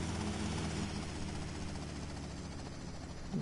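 Helicopter in the video game Vice City Definitive Edition, a steady droning rotor and engine hum held at constant loudness throughout.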